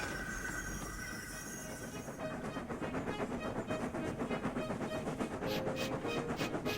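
A steam train chugs in a steady rhythmic beat, its puffs and clanking wheels building after a quieter start and holding loud and close.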